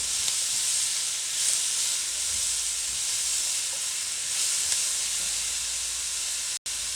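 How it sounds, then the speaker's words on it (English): Carrot and peppers saute in a hot pan, giving a steady, close hiss and sizzle that holds evenly for several seconds with no talk, then cuts off abruptly near the end. "Just peppers, the carrot and the peppers, and I will saute them for 2 minutes"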